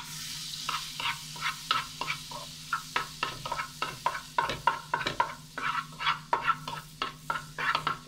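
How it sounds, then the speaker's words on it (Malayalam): Butter melts in a pan, giving a soft, close sizzle over a low hum, with a busy, regular run of spoon clicks and scrapes as it is stirred. "ബട്ടർ ഒന്ന് മെൽറ്റായി വരട്ടെ."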